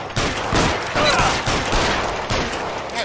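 Dense, continuous gunfire in the video game L.A. Noire, overlapping shots forming a loud, sustained barrage with no breaks for the full stretch.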